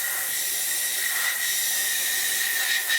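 Continuous airbrush hiss as paint is sprayed inside a part of an Academy F-16I Sufa scale model kit, steady and close with slight surges from short stabbing bursts, no talking.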